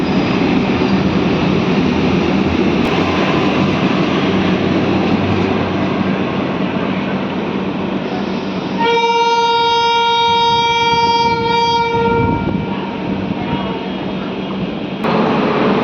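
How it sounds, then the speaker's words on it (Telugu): The Secunderabad–Nagpur Vande Bharat train runs through Mancherial station with a loud, steady rumble and rush. A long, multi-toned horn blast sounds midway for about three seconds before the rolling noise carries on. "సికింద్రాబాద్ నాగపూర్ వందే భారత్ వచ్చింది మంచిర్యాల స్టేషన్లో"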